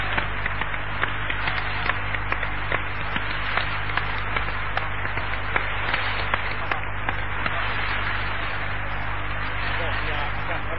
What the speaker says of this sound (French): je demande tous ensemble qu'on se lève et qu'on l'acclame